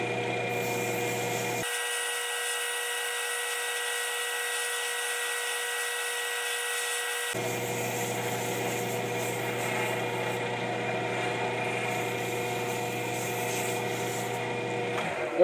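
Olive wood pen blank spinning on a lathe while sandpaper works it, a steady continuous machine drone with a brief higher-pitched sanding shift in the middle, no talking.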